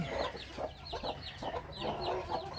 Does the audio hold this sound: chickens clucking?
yes